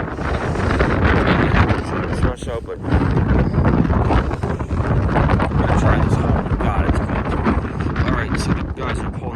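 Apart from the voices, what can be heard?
strong wind blowing on a boat at the dock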